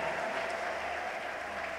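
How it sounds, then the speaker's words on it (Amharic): A church congregation applauds during a prophet's sermon, steady clapping filling the space, with a faint high tone that may be ululation running through it; no one speaks. "ሰው ለጌታ ከፍ ያለ ለልታና ጭብጨባ አምጡ"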